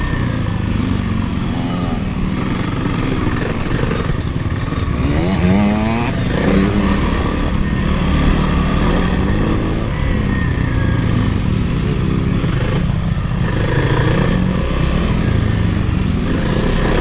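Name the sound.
Kawasaki KLX300R dirt bike engine riding in second gear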